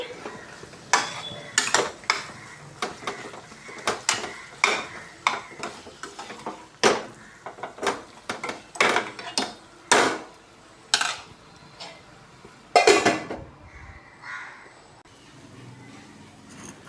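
Drumstick masala curry cooking in a pan, stirred with a metal spoon that scrapes and clinks repeatedly in uneven bursts over a low background sizzle, close up with no talking.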